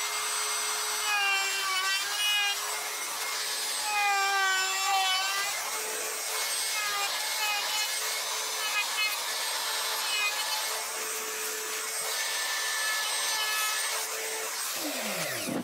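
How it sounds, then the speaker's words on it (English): A full-size router with a half-inch round-over bit shapes the edge of a wooden guitar body from a kit, giving a loud, continuous high whine with rasping cutting noise that shifts as the bit moves along the edge. "My preferred way to do it is with this half inch round over bit. I'm gonna use a full size router."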